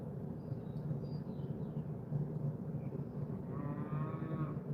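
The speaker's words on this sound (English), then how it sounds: "Moo!" A cow moos in a farm setting, a low, drawn-out call over steady rumbling background noise, with a fainter higher call near the end.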